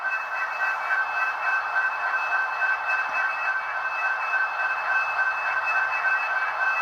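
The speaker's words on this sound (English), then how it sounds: "So I'm going to pause the video and try to get rid of that whine." A continuous high-pitched electronic whine from an HO scale SD70AH locomotive sound decoder running under DCC, steady and unchanging over a soft hiss, close and moderately loud, with no voices.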